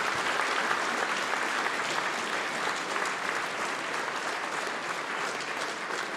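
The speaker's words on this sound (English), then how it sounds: "let's give a huge round of applause to our guests" Sustained, dense applause from a conference audience at the Warsaw Stage of WSF2025, closing a panel session; steady and even at moderate loudness for about six seconds, with no speech over it.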